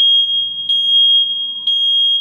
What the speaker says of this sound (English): So in order to test it, you would take it down from the wall, and there's a little button on the smoke detector,